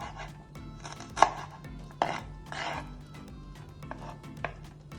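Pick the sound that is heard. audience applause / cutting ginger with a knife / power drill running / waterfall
cutting ginger with a knife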